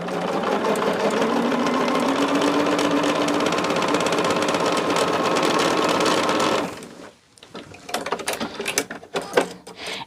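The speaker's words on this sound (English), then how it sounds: "we're going to start our process by sewing a triangle onto opposite sides of our big fabric, or big square." A sewing machine runs steadily for about seven seconds, stitching a triangle onto opposite sides of a large fabric square. It stops abruptly, and a few faint clicks and handling sounds follow.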